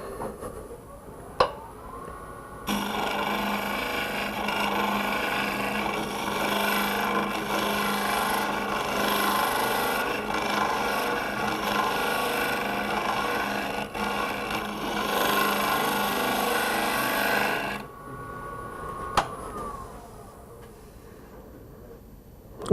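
A hook tool cutting the interior of a spinning natural-edge end-grain wood bowl on a lathe, a steady, close scraping whir lasting about fifteen seconds, with quieter machine hum and a few sharp clicks before and after.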